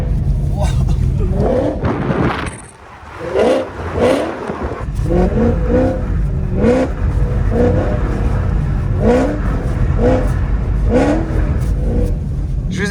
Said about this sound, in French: Black Series. Waouh, waouh, waouh, avec un straight pipe, le bruit qu'elle fait